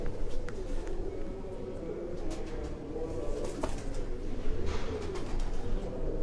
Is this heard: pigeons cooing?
yes